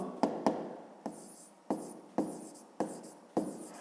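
A pen scratches in a notebook during a fifth-grade math exercise, with short, close strokes and taps in a quick irregular rhythm.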